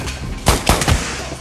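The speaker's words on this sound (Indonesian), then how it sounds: "tiba-tiba saja Aliana datang dan langsung menembak penjagal itu" Gunshots in a film action scene, two or three sharp loud bangs in quick succession with a short rumbling tail.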